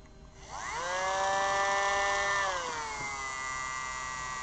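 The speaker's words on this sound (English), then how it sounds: "So we're going to get ready to drill." A small rotary drill spins up and whines steadily, then its pitch drops slightly as it bites into a miniature resin or metal bust, drilling a hole for mounting on a plinth; no talking.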